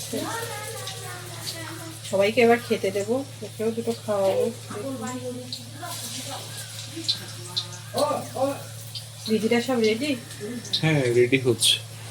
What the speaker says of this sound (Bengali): এখন বড়াগুলো ভাজার পালা কুমড়ো ফুলের বড়া